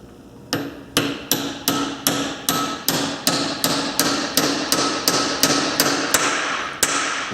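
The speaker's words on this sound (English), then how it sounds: "When you hear that and you feel the hammer bounce back, you know you're on all the way" A hammer taps a seal into a gearbox in a steady rhythm, about fourteen sharp, ringing metal strikes roughly half a second apart, close and loud with no talking.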